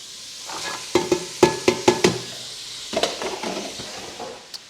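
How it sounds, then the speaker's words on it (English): Chopped onion hits a hot pot for pea soup, giving a series of sharp clattering, sizzling bursts that settle into a steady low fry, with a few more stirring knocks and pops later. "There's the onion. Throw the onion in there."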